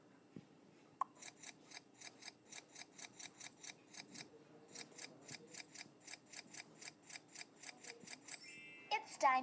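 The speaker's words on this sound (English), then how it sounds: "Use the scissors." Rapid rhythmic snipping of scissors in a kids' hair salon video game, dozens of quick crisp cuts in a steady run, with a few electronic chimes near the end.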